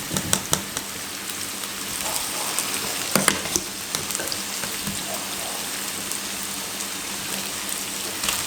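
Cauliflower gnocchi dropped into a frying pan sizzle with a steady, crackling hiss, with a few louder pops and spits near the start and middle, fairly quiet and heard alone.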